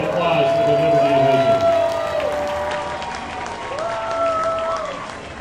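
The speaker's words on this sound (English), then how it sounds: "What about a round of applause for the" A crowd applauds at a minor-league baseball all-star game in a stadium, the clapping spread and distant beneath an amplified announcer's voice and a sustained tonal hum.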